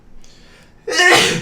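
A single human sneeze bursts out sharply and loudly near the end, after a brief faint intake of breath.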